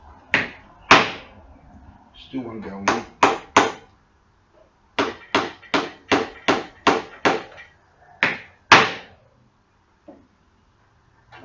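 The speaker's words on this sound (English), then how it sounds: "In a case like this, you need a heavier hammer." Heavy hammer blows driving nails into a wooden rat trap, sharp loud strikes in quick runs of three to six with pauses between, and a person speaking briefly in between.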